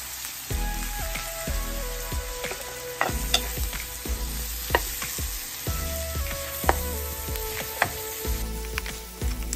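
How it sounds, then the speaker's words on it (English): Onion sautéing in a pan for a stir fry of steak and vegetables: continuous close sizzling with repeated utensil knocks and scrapes against the pan throughout. "then add your onion, and saute for 2 minutes."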